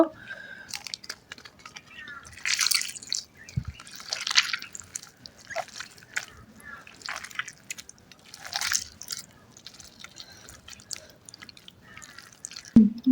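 Fish bharta mixture being mashed and squeezed by hand in a home kitchen, giving soft wet squishing and sticky smacking bursts that come and go close up, with no talk.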